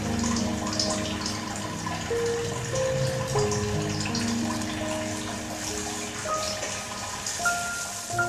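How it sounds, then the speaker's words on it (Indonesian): Green grass jelly liquid, blended cincau, pours steadily into a container, a continuous watery splashing and trickling at a constant moderate level with no talking. "Tuang di atas wadah."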